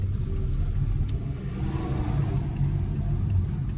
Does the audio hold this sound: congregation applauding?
no